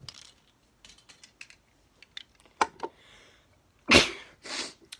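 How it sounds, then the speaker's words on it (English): A single sharp sneeze bursts out near the end, preceded by scattered small clicks and rustles of handling in an otherwise quiet room. "I had to sneeze."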